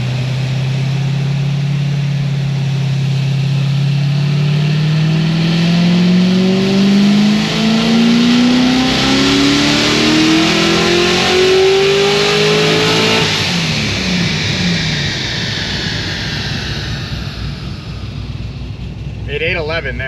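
A supercharged LS7 V8 on a dyno winds up in one long, loud, rising pull with a climbing whine, then cuts off and spools down, with a brief voice near the end.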